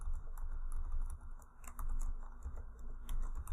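Code is typed on a computer keyboard as quiet, close clicking keystrokes in irregular quick bursts with brief pauses.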